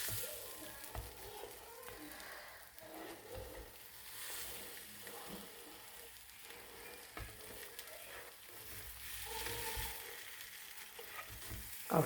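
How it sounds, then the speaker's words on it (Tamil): Bread stuffed with green gram masala fries in an oiled pan, giving a steady, close sizzle that swells and fades as the pieces are flipped. Scrapes and light clatter from the pan surface now and then. "ஸ்டஃப் பண்ணிவிட்டு இப்போது நம்ம இப்படி திருப்பி போட்டு பொரிச்சிக்க வேண்டியது தான்"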